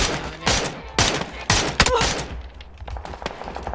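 Bursts of rapid gunfire in a shooting video game, several loud clustered volleys in quick succession, dense and close, followed by quieter scattered shots.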